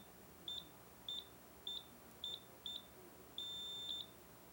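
A Brother KH-930 knitting machine's electronic buzzer sounds five short high bleeps in a steady rhythm, then one long tone, with no one talking.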